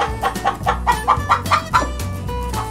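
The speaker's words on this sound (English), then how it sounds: "Here comes the chickens." Close, rhythmic chicken clucking, a quick run of about ten short clucks in a row against a steady background hum.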